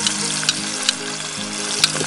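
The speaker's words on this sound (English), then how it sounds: "It's got a nice sizzle going on." Short ribs sizzle in a Dutch oven over coals, a steady close crackling fry with a few sharper pops and no talk.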